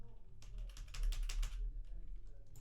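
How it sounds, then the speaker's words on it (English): Numbers are typed on a computer keyboard, a quick cluster of faint, close key clicks lasting about a second over a low background hum. "To dial someone, simply type the numbers with your keyboard."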